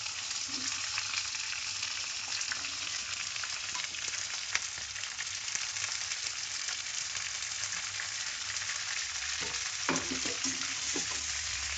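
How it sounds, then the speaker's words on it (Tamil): Onions fry in a pan for chana dal chutney alongside green chillies, with a dense, continuous sizzle and occasional stirring clinks and scrapes throughout. "வெங்காயம் ஆட் பண்ணி நல்லா கலரிக்கணும். இதுவும் நல்லா கோல்டன் ப்ரௌன் வரணும்."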